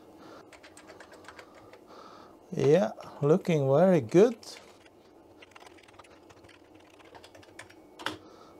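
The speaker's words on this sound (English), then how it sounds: "Let's test the keyboard then." Keys on a Commodore CDTV Amiga keyboard click in a quick patter under a steady machine hum, while a voice speaks briefly over a burst of louder tones in the middle.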